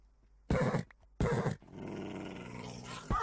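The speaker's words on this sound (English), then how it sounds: "the wolves are attacking them" Two loud, harsh wolf growls from the Minecraft TerraFirmaCraft mod, with a short gap between them, then a lower rumbling snarl that carries on until a last sharp burst.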